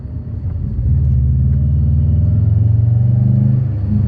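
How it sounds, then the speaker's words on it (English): A Subaru Impreza WRX Classic's boxer engine and exhaust rumble loud and close, a deep, steady, throbbing burble that swells and then holds as the car pulls along. "The sound of that boxer and that exhaust, listen to that."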